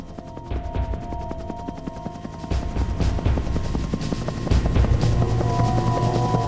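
A rescue helicopter's rotor thuds rapidly and steadily nearby during a flood, its rhythmic chopping growing slightly louder over several seconds.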